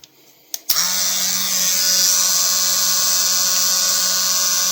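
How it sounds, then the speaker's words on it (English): A Dremel rotary tool spins up after a couple of clicks and grinds at a vintage shaving brush with a steady, high, close whine that holds for several seconds. "the guy used a Dremel. I'm going to try that."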